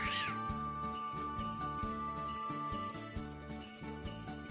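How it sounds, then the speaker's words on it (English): A cat lets out a single rising-and-falling meow right at the start, briefly heard over steady, looping game music that continues throughout. "But then they howl at me to pick them up and put them on beds"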